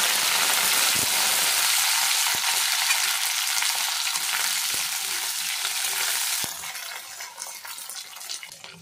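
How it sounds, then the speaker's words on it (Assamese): Okra fries in hot oil in a pan with a loud, dense, steady sizzle and a few faint clinks of stirring. The sizzle drops noticeably toward the end but keeps crackling softly. "এতিয়া মই ভেন্দিখিনি ভাজি ল'ম।"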